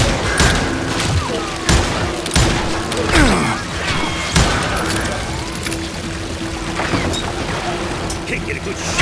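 Gunfire in the western shooter Call of Juarez Gunslinger, a burst of sharp repeated shots and thumps in the first half, then quieter game ambience, with voices heard over the action.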